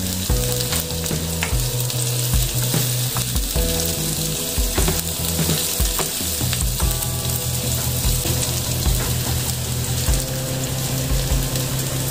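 Bay leaves and whole peppercorns fry for tuna adobo, giving a loud, dense sizzle with bubbling crackle and occasional stirring scrapes, steady throughout at close range with no voices.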